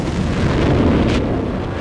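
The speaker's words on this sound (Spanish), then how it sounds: "Una explosión cósmica." A sustained, broad roar from an asteroid exploding in Earth's atmosphere rumbles loudly for nearly two seconds, with a brief brighter crack partway through.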